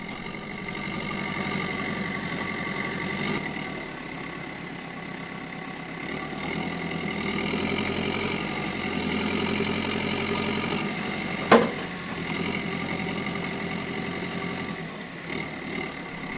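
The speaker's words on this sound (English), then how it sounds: "I'm always very cautious using the backhoe to do this" A backhoe's diesel engine idles steadily at mid volume on a North Idaho homestead, a low continuous rumble with one brief sharp clank near the end and no talking.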